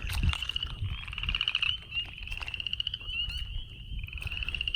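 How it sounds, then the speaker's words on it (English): A chorus of spring peeper frogs calls outdoors in spring: a loud, high, piping peep repeats steadily over a lower background of croaks and other frog calls. "Spring peeper."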